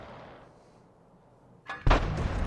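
A tank cannon fires in a tank video game, a single sharp heavy blast that bursts in loud after a quiet stretch and rings on with a rumbling tail.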